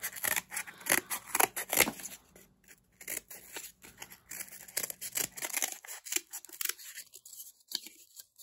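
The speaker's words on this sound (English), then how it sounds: "cutting cardboard can be pretty tricky" Scissors cutting cardboard close up, a series of crisp snipping crunches in irregular bursts, quiet and alone, with some rustling of the board toward the end.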